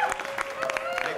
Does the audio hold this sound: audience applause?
yes